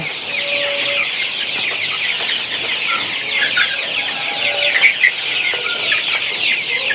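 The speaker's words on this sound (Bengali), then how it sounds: "এই যে দেখতে পাচ্ছেন আমার মুরগিগুলো আলহামদুলিল্লাহ" Sonali super hybrid chickens, about 35 days old, fill a poultry shed with dense, continuous clucking and chattering from many birds, close and fairly loud, with no talk over it.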